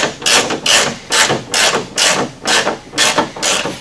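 Ratchet turning Torx bolts out of a car console, a loud, close, steady series of about eight rapid clicking bursts in an even rhythm, with no voices.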